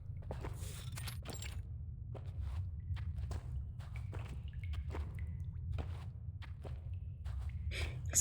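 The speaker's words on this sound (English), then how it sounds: "Only the sounds of dripping water and soft footsteps can be heard in the tunnel." Soft footsteps echo through a tunnel in the video game Reverse: 1999, a steady series of quiet, separate steps over a low rumbling hum, with faint drips.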